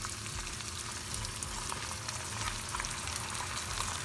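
Tomato sauce frying in a pan with cooked ginger and garlic for a Madras chicken curry, giving a steady, even sizzle that holds close and constant throughout with no voices.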